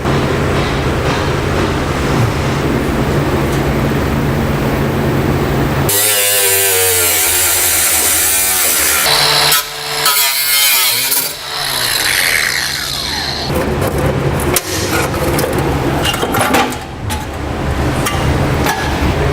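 A power tool cuts through a metal heat shield under a 2008 Chevrolet Silverado pickup during fifth wheel hitch installation. The loud, harsh grinding whine starts abruptly partway through and runs on in bursts close by, with no talking.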